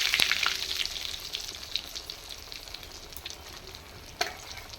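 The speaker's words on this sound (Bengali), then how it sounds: "এইভাবে ভেজে নিচ্ছি বন্ধুরা দেখুন আমি ভেজে নিয়েছি ডিমের চপ" Vegetable egg chops fry in hot oil, a soft continuous crackle and sizzle with a few sharper pops, heard close and alone.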